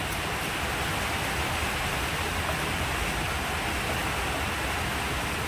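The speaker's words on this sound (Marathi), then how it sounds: "बघा पाऊस आता चालू झालाय" Steady, dense rain hisses continuously, a broad even wash of noise with no pauses and no voices.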